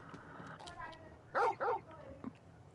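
Two short, loud dog barks from a large wolf-like hound in the video game Final Fantasy 16 come close together midway, with softer game sounds and a faint whine around them.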